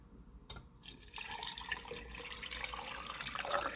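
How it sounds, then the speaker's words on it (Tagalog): Cooled water pours steadily into a container for curing salted eggs, starting quietly and growing fuller and louder, close by, with no talking. "malamig na yung ating sabaw ay yung tubig, ilagay na natin"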